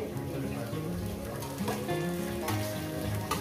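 Fenugreek leaf paste sizzling and frying in a pan, a steady crackling hiss with occasional stirring scrapes, close and continuous.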